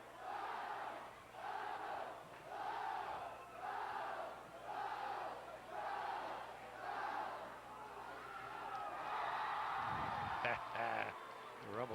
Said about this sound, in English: Here's my favorite cheer.